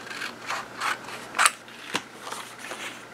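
Scissors trimming the edge of a paper envelope flap in small snips: a quiet series of short crisp cuts, about eight in a few seconds, close up with no talk.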